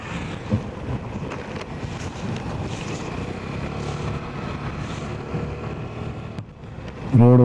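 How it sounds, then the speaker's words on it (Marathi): A Konkan Railway train passes outdoors beside a roadside, giving a steady broad rumbling rush that holds for several seconds and ends in a loud, brief tonal blast. "हे बघा कोकण रेल्वे चालले."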